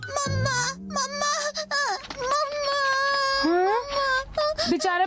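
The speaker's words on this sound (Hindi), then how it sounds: "बेचारा बच्चा रो रहा है।" A cartoon baby crying in loud, wavering wails and whimpers with rising and falling sobs, close and continuous over about five seconds, with a brief voice mixed in.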